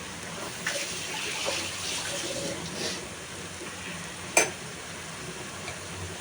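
A chicken steak shallow-fries in a little oil, giving a quiet, even hiss with one brief sharp tap partway through.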